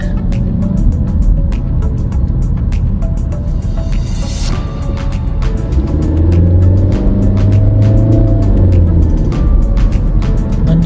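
Steady road traffic with cars passing close by, a continuous engine and tyre rumble with sharp clicking transients over it and a heavier vehicle swelling louder toward the end.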